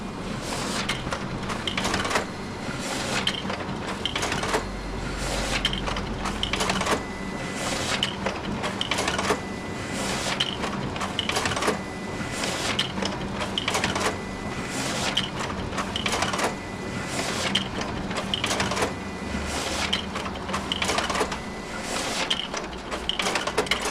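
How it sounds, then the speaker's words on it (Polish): An office printer runs off a backlog of queued print jobs, its feed mechanism clattering and whirring in a steady, close, repeating rhythm with no talk. "w tym momencie maszyna zaczyna drukować wszystkie prace pozostałe w naszej skrzynce buforowej"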